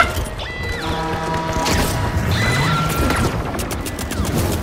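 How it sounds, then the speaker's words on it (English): Flashbang grenade detonating in the video game The Finals: sharp crashing bursts with a high ringing tone trailing off, set among steady loud in-game combat noise. "Bro, your flashbang is the way to go."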